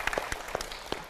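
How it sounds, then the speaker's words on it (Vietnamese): Studio audience on a live TV show giving a few scattered, sharp claps, sparse and uneven over about a second. "Một tràng pháo tay cho bạn ấy đi."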